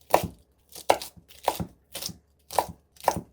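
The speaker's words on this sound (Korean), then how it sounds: "비슷한 크기로 나박하게 썰어주세요" A knife chops napa cabbage into small, even square pieces for a holiday side dish, landing six crisp, evenly spaced strikes close by, with no talking.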